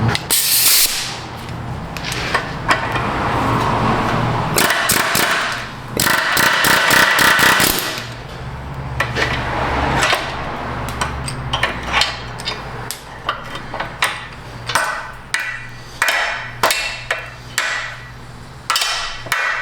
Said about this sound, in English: That's how you're supposed to use an air hammer.